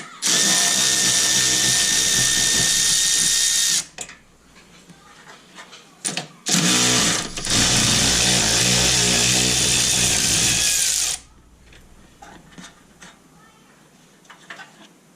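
Power tool, likely an impact wrench or drill with a 12 mm socket, working on the engine of a 2006 Honda Civic during a VVT solenoid gasket job. It runs in two loud sustained bursts of a few seconds each, with quieter clinks between.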